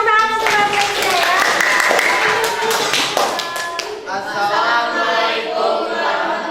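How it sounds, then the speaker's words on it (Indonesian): A classroom of students claps in a STEM science lesson on dynamic electricity, sharp close handclaps in a quick irregular burst, with children's voices and chatter rising over and after the clapping. "Iya, tepuk tangan untuk kalian ya."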